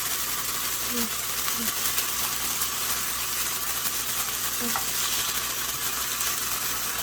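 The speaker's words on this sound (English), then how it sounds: "when you're frying anything, you don't want to put your heat too high, because then the oil will just keep splashing" Steady loud sizzling of a burger frying in hot oil, with a few faint crackles and pops throughout.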